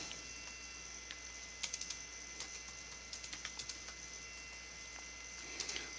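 Typing on a computer keyboard, faint and somewhat distant: scattered bursts of quick key clicks with pauses between them over a low steady hum, no speech.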